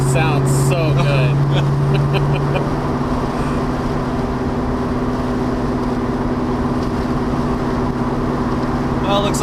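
A 1973 numbers-matching Plymouth Cuda with a 340 cubic-inch engine drives along, its steady engine drone running throughout beneath people talking, with a brief higher tone near the start.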